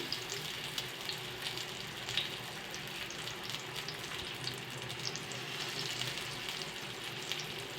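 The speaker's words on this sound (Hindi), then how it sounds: "हमने इन कबाबों को हल्की फ्लेम पर फ्राई कर लेना है।" Chicken, beef and rice kebabs frying in oil over a low flame, a steady, even sizzle with fine crackling throughout, close and moderately quiet.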